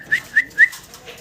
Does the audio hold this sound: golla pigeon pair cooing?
yes